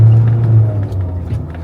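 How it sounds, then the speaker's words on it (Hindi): A Mahindra Thar crawling off-road in 4-low over rocky ground, its engine a steady close low rumble that surges and dips slightly as the vehicle lurches along, with no voices. "मैंने 4 लो लगा रखा है तो थोड़ा सा गाड़ी ऐसे झटके लेते हुए चलेगी"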